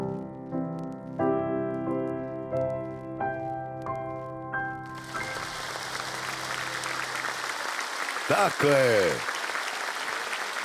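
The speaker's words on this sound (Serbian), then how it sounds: "zaslužuje ovaj aplauz" An audience at a foundation event breaks into applause midway after sustained musical tones: dense, steady clapping that fills the room and carries on to the end, with a brief voice over it.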